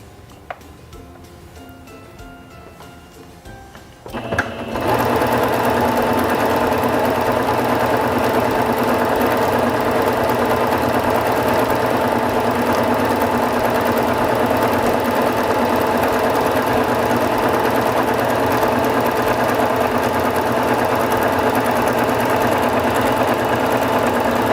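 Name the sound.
SINGER Fashion Mate 5560 sewing machine sewing decorative stitch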